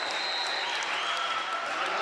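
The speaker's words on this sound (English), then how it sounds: "who gets a nice round of applause" Crowd at a high school boys basketball sectional semifinal gives a substituted senior a round of applause, a steady wash of distant clapping with a faint high tone running beneath.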